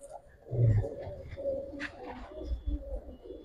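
Giribaz pigeons coo in low rolling phrases, several birds close by, mixed with rustling and faint background voices of people talking nearby.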